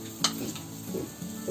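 A spice, turmeric, salt and rava coating mixture for Rawas fish fry is being stirred. Soft, brief scraping and mixing strokes come in a few quiet bursts, with no talking.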